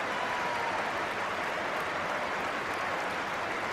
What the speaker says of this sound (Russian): Поле покидает, хотя ему все равно аплодируют болельщики.